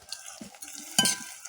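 Panch phoron seeds and a bay leaf frying in hot oil give a soft, low sizzle with faint crackles and one brighter spitting burst near the middle, heard alone.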